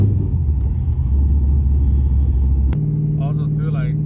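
A loud Camaro Z28 engine with a 3200 stall converter rumbles steadily from inside the cabin, deep and droning, with a brief shift in tone near the end.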